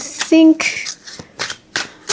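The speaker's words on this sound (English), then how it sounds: "Overhand shuffling. Ooh, pretty slick." Tarot cards with a glossy finish are overhand shuffled by hand in quick soft riffling bursts, close up, while someone talks over them.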